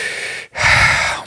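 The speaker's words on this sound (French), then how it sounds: "en prenant une grande et profonde respiration" Two deep, audible breaths drawn close to the microphone during a hypnosis session, a brief inhale, a short pause, then a longer, fuller breath.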